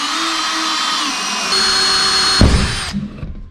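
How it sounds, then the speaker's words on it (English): A power drill fitted with a wood auger bores slowly through the plastic wall of an IBC water tank, giving a loud, close, steady whine that rises in pitch midway and then cuts off with a clunk. "what we actually use for drilling it is just a wood auger, and run it on a slow speed on the drill"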